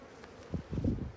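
A close, low droning buzz of many honey bees at a hive, swelling slightly over a brief moment with no voices.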